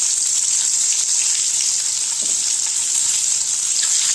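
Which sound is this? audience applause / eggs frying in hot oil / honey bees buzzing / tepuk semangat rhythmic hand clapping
eggs frying in hot oil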